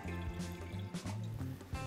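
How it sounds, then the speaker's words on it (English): Chardonnay white wine pours into a glass, a close gurgling trickle with a brief splashy rise as the glass fills, heard alone. "Pour the wine in the glass."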